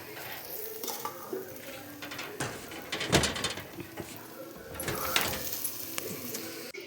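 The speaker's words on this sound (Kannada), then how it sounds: "ಇದಕ್ಕೆ ನಾವು ಸರ್ವಿಂಗ್ ಬೌಲಲ್ಲಿ ಹಾಕೊಳ್ಳೋಣ." Egg bhurji scraped from a pan into a serving bowl, with scattered clinks and scrapes of a spoon against metal cookware, a louder clatter midway, close and moderately loud.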